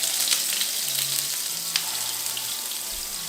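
Burgers fry in a very hot pan with a steady, close sizzle and a few faint scrapes of stirring, no voices.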